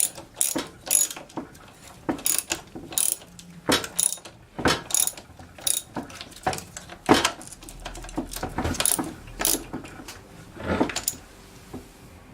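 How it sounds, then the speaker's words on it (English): A ratchet wrench tightens 17 mm bolts on a hydraulic floor jack under rebuild, its sharp pawl clicks coming in close repeated bursts with short pauses between turns. "I need to now tighten this down. Okay, so these are 17 millimeter bolts."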